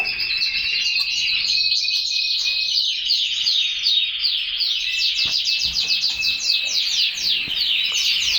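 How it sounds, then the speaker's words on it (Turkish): Bengalese finches and golden finch chicks chirp in an aviary, a dense, continuous chorus of high, rapid tweets close by with no talk. "İki tane bengal var. Ee, altı tane de Golden Finch yavrusu var."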